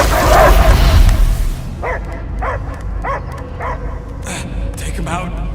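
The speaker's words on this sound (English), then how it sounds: "I hear only barking" A dog in the Guardians of the Galaxy video game lets out a run of sharp barks and yips after a burst of loud noise, with game voices around it.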